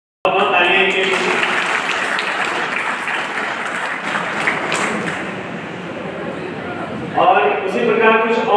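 An audience at a gathering breaks into clapping to congratulate a student who passed 12th grade, a dense, steady applause that carries a speaking voice at its start and swells again near the end.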